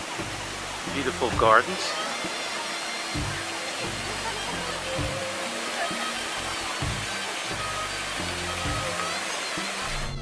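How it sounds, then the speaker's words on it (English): Steady rushing splash of fountains outside the Blue Mosque in Istanbul, a broad continuous water wash running throughout while a voice speaks briefly near the start. "Approaching the Blue Mosque. You can hear the fountains."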